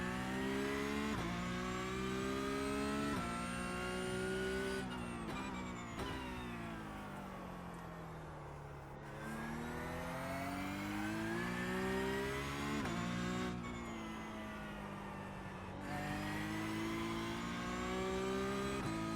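A Porsche Cup race car engine in the iRacing simulator revs through its gears, rising in pitch, dropping sharply at each shift, then climbing again, loud and constant with no speech over it.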